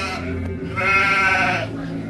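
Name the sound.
sheep and goats bleating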